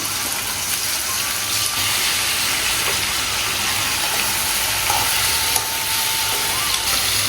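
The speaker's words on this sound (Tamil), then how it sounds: "லேசாக எண்ணெய் சூடானதுக்கப்புறமா போட்டு இது ஒரு ரோஸ்ட் பண்ணிக்க வேண்டியது தான்." Paneer pieces roast in about two tablespoons of hot oil, sending up a loud, dense, continuous sizzle and hiss with faint stirring noises mixed in.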